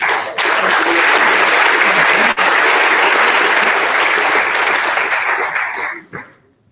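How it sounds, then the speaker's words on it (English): An audience at a startup demo day award presentation applauds continuously for several seconds, dense and loud, before it tapers off at the end. "give a round of applause Matt Huntington to come"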